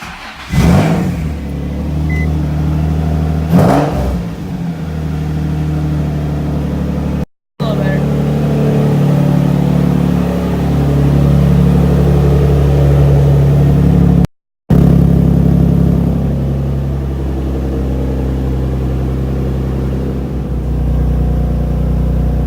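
A Nissan 350Z engine starts and revs loudly in two sharp bursts near the start, then settles into a steady, continuous idle drone with brief dropouts.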